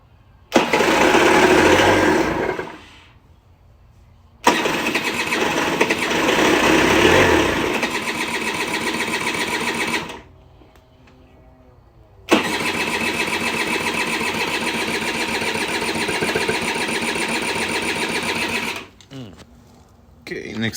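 A Honda Aero50 scooter engine cranked repeatedly without starting: three long bursts of whirring starter motor and sputtering, each several seconds, separated by short quiet pauses, recorded up close.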